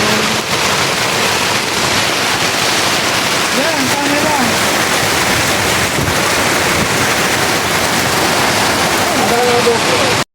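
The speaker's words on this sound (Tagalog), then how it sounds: "Tignan nyo kung gano'ng kalakas ng ulan." Heavy storm rain roars steadily throughout, a dense loud wash of sound, with people talking over it.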